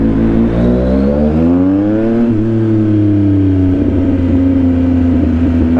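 A Yamaha MT-09 motorcycle accelerates hard on an open road, the engine note climbing steadily through the revs, dropping at a gear change and climbing again, loud and close throughout.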